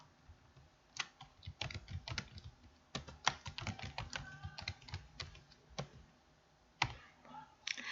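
Quick, uneven bursts of computer keyboard typing and backspacing while editing text, close up, with short pauses between runs of keystrokes and a few sharper key taps.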